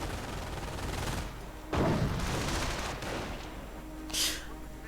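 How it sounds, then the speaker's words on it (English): Dense, rattling bursts of machine gun fire from a WWII strategy video game, loud and continuous with a heavier crack partway through and a sharp higher burst near the end, with no talk over it. "Engineers getting stopped by MG fire."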